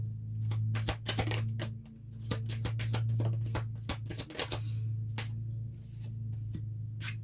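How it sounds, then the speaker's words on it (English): Tarot cards being shuffled and pulled from a deck, a series of crisp close riffling and snapping bursts in uneven rhythm, with a steady low hum beneath and no talking. "hold on. Let me pull a few more cards."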